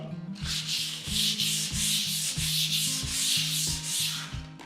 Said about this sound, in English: we use 120 grade sandpaper to sand it down